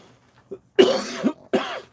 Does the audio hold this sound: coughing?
yes